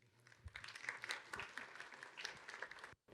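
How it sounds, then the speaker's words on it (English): An audience at a talk applauds the incoming speaker with a quiet patter of clapping that swells and fades over a few seconds before cutting off abruptly. "Please give a round of applause for Dr. Javed."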